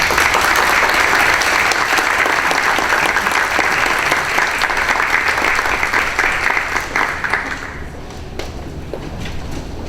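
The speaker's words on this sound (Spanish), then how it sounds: "Recibámosla con un aplauso." An audience at a conference on women's freedom applauds in a dense, steady burst of clapping for about eight seconds, then thins out and fades to scattered claps and room noise.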